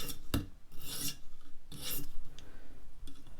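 Serrated knife being sharpened to remove the burr, several short rasping file strokes scraping in an irregular rhythm, close and clear with no talk.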